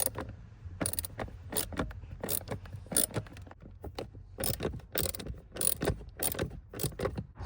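A hex E8 socket wrench ratchets against bolts on an Infiniti, giving a close series of sharp metallic clicks and clacks in uneven bursts with short pauses between them.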